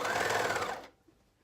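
A sewing machine runs steadily, stitching binding around a garment armhole, a close, even mechanical whir that lasts under a second before stopping abruptly into near silence.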